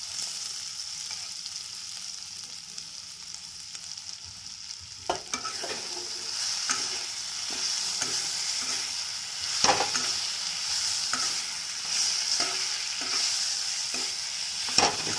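Potatoes fry in spice masala in a pan, a steady low sizzle broken after a few seconds by repeated scraping and knocking strokes of a spoon stirring them, close and clear with no talking.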